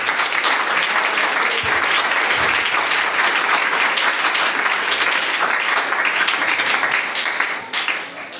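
A church congregation applauds loudly and steadily, dense sustained clapping from a large crowd that fades slightly at the end.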